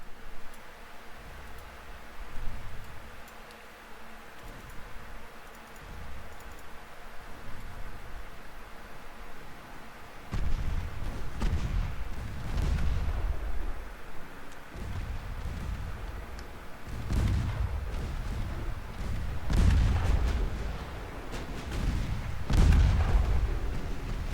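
Naval artillery in the Ultimate Admiral Dreadnoughts video game: distant, muffled cannon booms roll in irregularly over a steady hiss, heavier and more frequent in the second half, with no speech.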